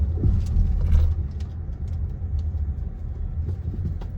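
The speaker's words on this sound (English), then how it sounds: "stepping onto the highway, again, super strong acceleration" A 2022 Kia Carnival EX minivan accelerates onto a two-lane highway, a steady loud engine and road rumble heard from inside the cabin with no talking.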